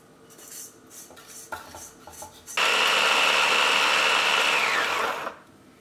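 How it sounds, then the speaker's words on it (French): A small blender bowl grinds spices into a paste for a Sri Lankan shrimp curry, first with clinks of a bowl and lid being set, then a loud, steady whirring motor for about three seconds before it stops. "On va maintenant le mettre dans un petit bol mixeur et on va le mixer."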